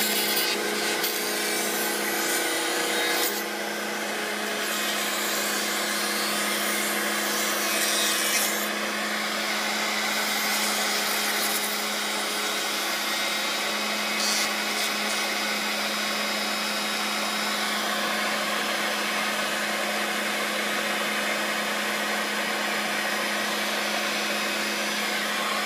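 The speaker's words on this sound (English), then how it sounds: "we're just putting a nice soft edge on the part, so it's not a sharp edge as it was off the CNC router" A router on a trimming table rounding over the edge of a CNC-cut wooden part, a steady high-pitched motor whine with rough rubbing cutter noise on the wood, close and continuous throughout.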